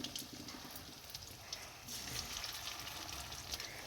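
Prawn fritters deep-frying in plenty of hot oil, a soft continuous crackle and bubbling sizzle that swells slightly partway through, fairly quiet and close, with no one talking.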